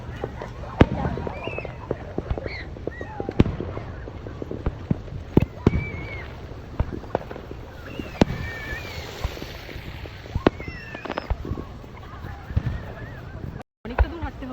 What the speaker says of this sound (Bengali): তারপরেই আমরা চলে যাই আতশবাজি দেখতে।